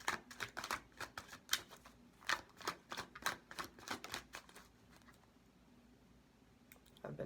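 Rapid riffling bursts of cards being shuffled, a quick run of crisp flutters repeating several times up close, then trailing off to quiet.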